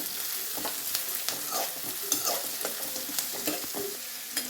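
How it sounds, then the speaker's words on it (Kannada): Onions sizzle and fry loudly in a pan for egg curry, with a constant hiss and repeated scraping and knocking of a spoon as they are stirred, close up and without talk. "ಆನಿಯನ್ ಒಂದು ಬ್ರೌನ್ ಕಲರ್ ಆಗೋ ತನಕ ಮಿಕ್ಸ್ ಮಾಡುವ"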